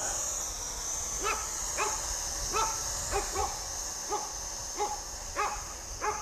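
A dog barks repeatedly at a flying toy drone outdoors at a moderate distance, sharp yaps spaced about every half second to second, over a steady high insect-like hiss.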